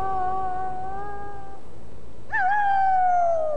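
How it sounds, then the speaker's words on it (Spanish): Two long, sustained howls, the first steady and fading out, then a higher rising cry after a short gap, both with a clear tonal quality over quiet background; wolf howling. "El aullido no era un medio de comunicación, era el sonido de un hombre lobo"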